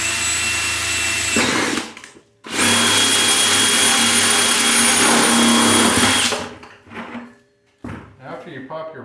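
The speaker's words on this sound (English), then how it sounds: "So we're going to go ahead and make these holes." A power drill bores holes in a homemade swarm trap, two loud sustained whirring runs separated by a short pause, then stopping, followed by quieter handling clatter.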